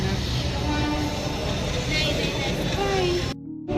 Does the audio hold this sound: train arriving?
yes